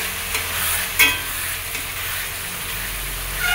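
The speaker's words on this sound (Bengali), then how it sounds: "আদা রসুন শুকনো লঙ্কা জিরের গুঁড়ো সব দিয়ে দিয়েছি, দিয়ে এই যে মশলা কষাচ্ছি" Spice paste of ginger, garlic, dried red chili and cumin powder stirred and sautéed in a pan after the onions and tomatoes, for a goat meat curry. Steady close frying sizzle with scraping stir strokes, with no one speaking.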